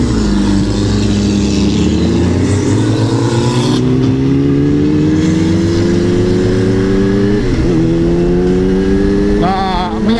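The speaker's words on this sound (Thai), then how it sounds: "พี่แกเร่งเครื่องแล้ว" A pickup truck engine revs hard and continuously, rising in pitch as it climbs through the revs, loud and close with no talking.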